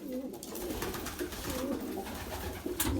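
Pigeons coo steadily in a loft housing a flock of about 86 healthy birds, several overlapping calls forming a continuous, close, moderately loud murmur with no talking.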